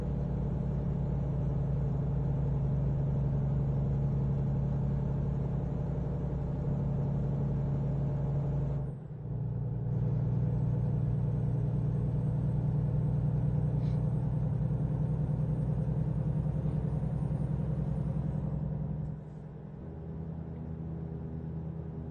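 A truck in American Truck Simulator, its engine rumbling and building steadily as it accelerates toward highway speed, with a low continuous drone and two brief dips in level that sound like gear shifts.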